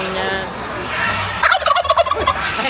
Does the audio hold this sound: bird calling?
yes